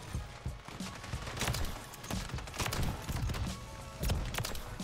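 Steady rapid gunfire in Modern Warfare 3 multiplayer, dense repeated sharp shots firing close and loud throughout, with faint footsteps and game noise beneath.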